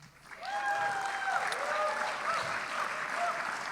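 An audience at a poetry contest in the Liberty Theatre breaks into loud, sustained applause, thick clapping mixed with a few whistles and cheers rising over the crowd.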